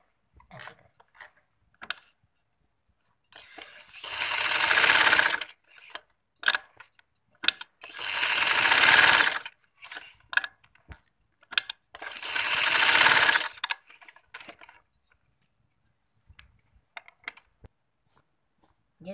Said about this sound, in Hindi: अब यहाँ पे भी आपने टांका लगा दिया ऐसे